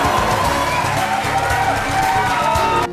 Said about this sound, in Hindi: लोग खड़े हुए, सीटियां बजाई, तालियां बजाई और शाहरुख खान का अभिवादन किया।